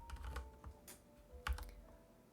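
Soft, close keystrokes on a computer keyboard while a trigonometric derivatives exercise is typed out, in a few quick bursts with a pause between them, in a quiet room.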